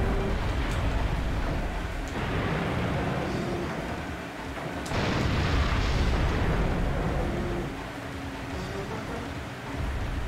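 Tank cannon fire in the video game Dino Crisis 2 during a boss fight: continuous heavy rumbling booms and bursts with sharp blasts punctuating a dense, loud wash of game noise.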